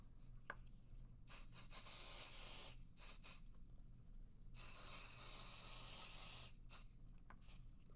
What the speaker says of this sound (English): And we're going to hit this with some pixie spray.